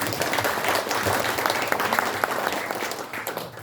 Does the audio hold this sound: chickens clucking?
no